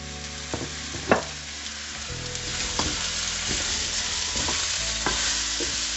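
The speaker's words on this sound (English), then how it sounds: "I'm going to fry these off." Red and green sweet peppers, celery and tomato fry in a pan for a chicken Alfredo sauce, giving a steady, close broadband sizzle with several sharp stirring clacks of a utensil against the pan.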